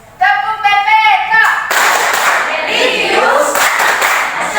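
A classroom of Indonesian schoolchildren doing the Tepuk PPK clap chant, a brief voice followed by dense, loud rhythmic group clapping mixed with the children chanting together.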